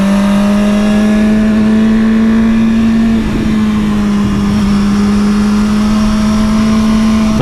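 A motorcycle engine drones loudly and steadily while riding on a road with snow still around, holding a nearly constant pitch with a brief dip partway through and no talking.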